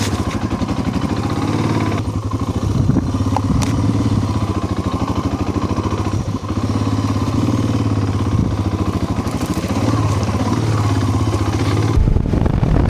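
A motorbike rides a rocky trail in New Mexico, its mid-pitched engine running steadily close by with rising and falling revs and clattering bumps over stones, a brief sharp change near the end.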